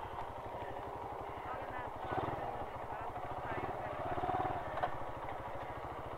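Motorcycle idling on Quinto Street in Manila, a steady, fast low putter running nearby at low level while people talk over it.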